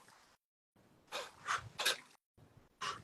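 Forceful exhales pushed out through the mouth in a standing fire-breath exercise, a few loud, close breathy bursts separated by short silences, with no talking.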